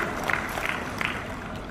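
Conference audience at a national higher-education meeting in Nusa Dua, Bali, applauding steadily: a moderate, even wash of many hands clapping, with a few sharper claps standing out.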